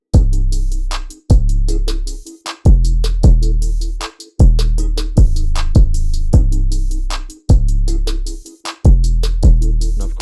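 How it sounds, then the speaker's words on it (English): A looping electronic drum pattern with booming low hits and layered, busy hi-hat clicks stacked on top, loud and continuous without any talking. "And you can also layer the hi-hats on top of that."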